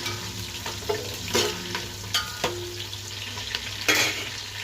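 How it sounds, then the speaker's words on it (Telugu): Sliced onions sizzle steadily in a pan for chicken biryani, with a constant frying hiss and occasional louder stirring scrapes of a spatula, close up, no voices. "ఉల్లిపాయలు కాస్త వేగాలి."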